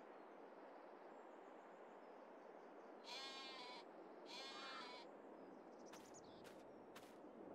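Sheep in the video game Farming Simulator 22 bleating twice, each call quavering and lasting about a second, over steady background noise followed by a few sharp clicks.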